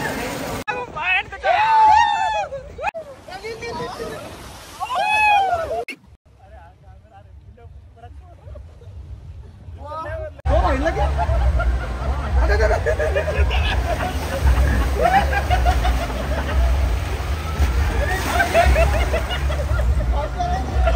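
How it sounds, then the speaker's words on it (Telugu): At an amusement park water ride, people talk first, then after a short quiet gap a loud steady rush of water and crowd noise takes over and carries on to the end. "స్టార్ట్ చేసాం వాటర్ రైడ్"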